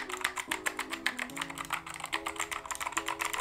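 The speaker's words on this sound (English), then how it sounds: "Now, this is a mechanical keyboard," Rapid, steady typing on a Keychron K2 mechanical keyboard, a dense run of crisp, close key clicks with no talking.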